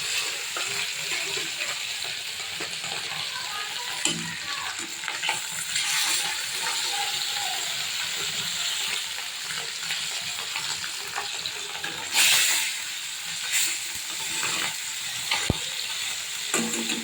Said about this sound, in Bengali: প্রথমে আমি ভেটকি মাছগুলো ভেজে নেব।